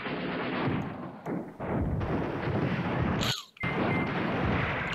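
Airstrike explosions in the wargame Command Ops 2 make a dense, loud, continuous rumble of overlapping blasts and crackling fire, with a short drop-out near the end before the barrage resumes.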